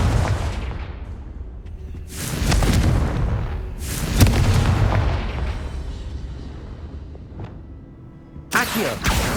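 Fiery Confringo spell blasts in the Hogwarts Legacy video game, several loud booming bursts with rumbling decay, spaced a couple of seconds apart and heard alone.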